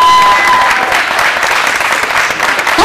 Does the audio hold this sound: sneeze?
no